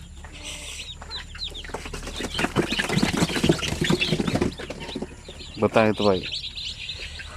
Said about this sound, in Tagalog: Yun ang maganda kapag may incubator ka, madali lang magparami ng mga sisiw.